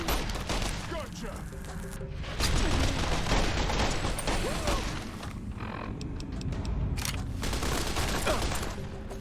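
SMG gunfire in Fallout: New Vegas, loud bursts of rapid shots broken by brief pauses, with booming impacts and a voice speaking over the action.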